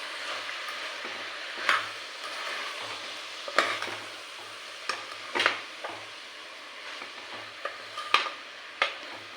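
A spoon stirs chilli powder and coriander powder into a cluster beans curry in a pan. Intermittent scraping strokes sound over a low, continuous sizzle, several distinct swipes spaced a second or so apart.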